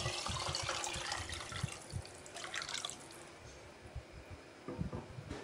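Water is poured into a pot of meat set to boil until tender, heard as a soft, fairly quiet trickle and drip with a few splashy bursts near the end.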